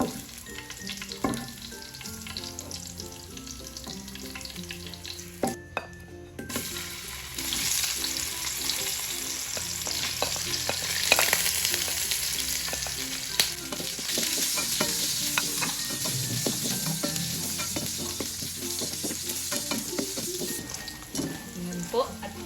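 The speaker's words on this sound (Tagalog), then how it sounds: "ang susunod kong i-prito ay ang ating squid ball" Steady oily sizzle and bubbling of squid balls deep-frying, continuous and fairly loud, with occasional clinks and faint background voices.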